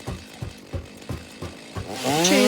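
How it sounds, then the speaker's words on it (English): Chainsaw cutting down trees in Satisfactory, a game set in a rocky desert, with a row of evenly spaced revving pulses that builds into a loud sustained whine near the end. "Chainsaw some trees down."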